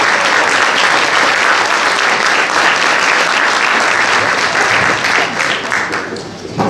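A large audience at a formal event gives a sustained, dense round of applause, loud and close, holding steady for several seconds before thinning out at the end.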